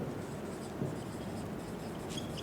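A pen scratches across a surface while someone writes a word during a maths lesson, a faint, steady scraping under low room noise.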